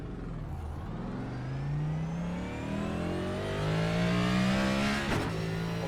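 Next Gen race car engine in iRacing at Sonoma, heard from the cockpit as a loud, close engine climbing through repeated revs and gear shifts, steady and driving with no speech.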